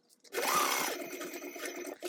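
A sewing machine basts a fabric seam at a 1/8-inch allowance while assembling a zippered sling bag, running in one steady near whir of stitching for nearly two seconds after a brief pause.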